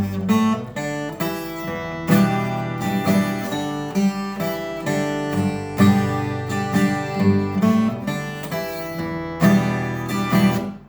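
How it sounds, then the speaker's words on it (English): A bright, shimmering 12-string guitar strums and picks a flowing chord progression, full and close with rich, chiming overtones. "I think the 12 string does sound the coolest out of the three."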